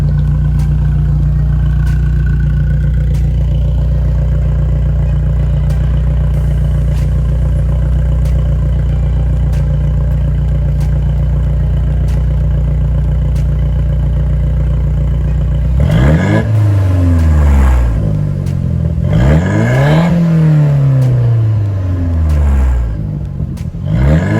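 A 2001 Audi TT Quattro idles with a loud, steady, close-up exhaust drone recorded beside the muffler, then revs sharply twice in rising and falling sweeps before settling back to idle.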